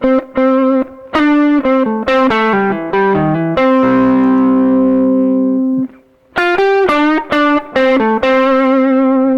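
An electric guitar plays a blues solo through distortion, with a series of clear picked and bent notes, a long sustained tone in the middle, a brief pause, and then more quick phrases.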